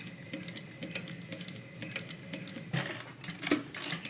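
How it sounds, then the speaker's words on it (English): A sewing machine stitches slowly around the seam of a tote bag with an eighth-inch seam allowance, giving a quiet, steady run of soft ticking needle strokes and a few louder clicks. "We're sewing all the way around"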